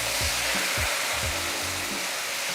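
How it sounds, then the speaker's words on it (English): Sauvignon Blanc white wine hitting a hot pan used for smothered pork chops, a loud continuous hissing sizzle that holds steady throughout, close up with no voices. "Now we're gonna deglaze this pan."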